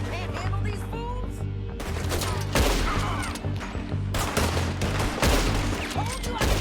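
Rapid gunfire from a shootout in Red Dead Redemption 2, with dense overlapping volleys of shots. Loud and sustained throughout, with brief pauses between bursts.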